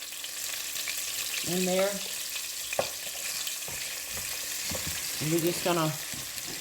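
Onions with kosher salt sauté in a pot for beef stew, a steady frying sizzle running throughout while a person talks briefly over it.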